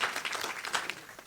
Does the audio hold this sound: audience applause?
yes